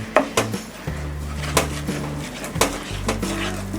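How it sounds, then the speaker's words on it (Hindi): A spoon scrapes and knocks against a pan while stirring a coconut barfi mixture with rose syrup, irregular clacks and scrapes over a low hum, with no talk. "इसे हम कंटिन्यूअस स्टर करते हुए 3 से 4 मिनट तक कुक करेंगे।"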